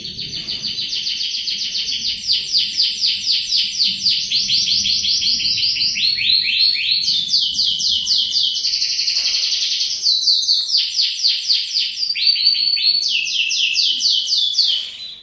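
A songbird sings loudly and close, pouring out rapid, repeated high trilling phrases almost without pause, with faint background noise underneath.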